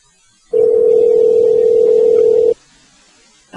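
A telephone in a television studio gives a single steady electronic tone, loud and sustained for about two seconds and then cutting off abruptly, with no talk over it.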